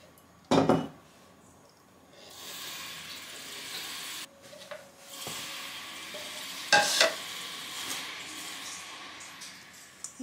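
Butter, sugar and orange blossom water being stirred together for a cake filling, giving a soft, continuous scraping swish with a few louder clinks of a utensil against the bowl, close by and with no talking.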